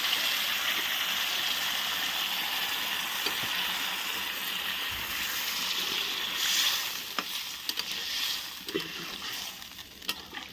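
A little water, swished through the masala bowl, poured into a pot of rohu fish curry cooking over a wood-fired clay stove, with a strong, continuous sizzle and bubbling, then a few clinks near the end.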